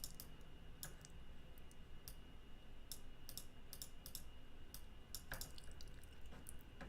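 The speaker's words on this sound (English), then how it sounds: "as you could hear from the clicking, I guess, I'm doing a little bit of mouse and hand at the same time" Computer mouse clicks come while drawing in Adobe Illustrator, sharp and light, scattered irregularly in small bursts over a quiet room hum, with no talk.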